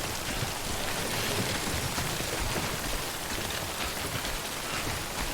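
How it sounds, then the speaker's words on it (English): Steady, dense rainfall pours down in the video game Death Stranding, a continuous close wash of drops with no other sounds over it. "So is this just going to be raining the entire time?"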